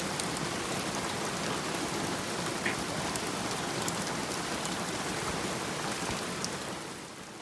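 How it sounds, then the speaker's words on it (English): Heavy tropical rain pours down in Far North Queensland, a dense, steady roar of drops hitting surfaces that holds constant for several seconds before easing slightly at the end; no voices. "This is our first real experience of heavy rain."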